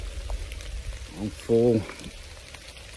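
Steady rain falls on an outdoor hunting spot in humid Missouri woods, a soft continuous patter beneath someone speaking briefly.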